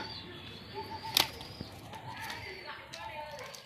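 A released pigeon at a large Andhra-breed loft in Kolkata gives a brief, sharp flutter of wings, a single close burst amid a murmur of voices and room noise.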